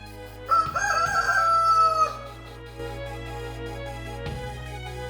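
A cartoon rooster crows loudly once in a long, wavering cock-a-doodle-doo over a steady background music bed, followed by quieter music.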